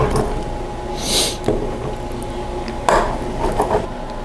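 Knife and utensils scrape and clink against a pan while a deep-dish survival pizza, baked in a small mini oven, is sliced up; a few brief cutting strokes and metallic taps stand out over a steady room background, with no talking.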